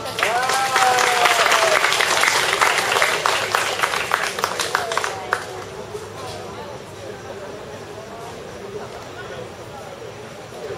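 Audience applause welcoming the Nanwang Sisters performers at an evening village show, loud dense clapping that swells early then fades over several seconds, with a voice speaking over it.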